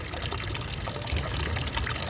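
Water pours and flows in a steady broadband rush, continuous and moderately loud, with no voices over it.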